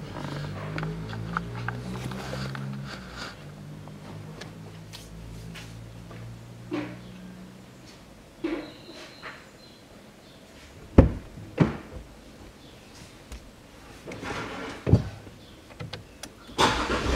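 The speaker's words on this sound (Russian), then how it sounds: "Заводим автомобиль." A 2014 Range Rover Sport 3.0 in a garage during an oil and filter change gives a brief starter crank, then its engine settles into a low idle, with later clunks and knocks like doors or panels.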